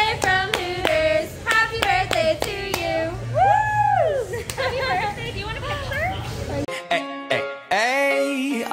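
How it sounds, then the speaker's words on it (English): Restaurant staff and diners at a Hooters birthday lunch clap in sharp bursts, loud and close, alongside singing and lively chatter. "Can I give a round of applause?"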